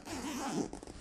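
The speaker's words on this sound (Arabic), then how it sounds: "السوستة مش حاسسها اعلى جوده" A zipper on a camera bag made in Egypt being pulled open in one smooth, close, continuous rasp, ending with a few short tugs.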